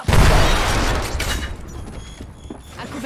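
Grenade explosion in the video game Apex Legends: a loud, dense burst of booming blast and crackling gunfire noise at the start, decaying over about a second into scattered shots and combat sounds.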